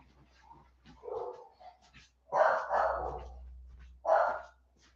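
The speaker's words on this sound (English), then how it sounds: "What the hell are you barking at" A dog at a kennel barks several times nearby, a few short muffled woofs followed by louder sharp barks, with quiet pauses between them.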